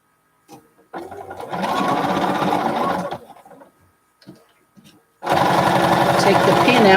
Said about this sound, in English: And then we're going to sew diagonally.